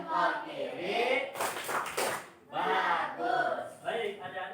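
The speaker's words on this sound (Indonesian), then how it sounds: "tepuk tangan untuk kita semua" A class of young students bursts into a loud burst of hand clapping in a classroom, briefly overlapping chanting voices, which continue before and after the applause.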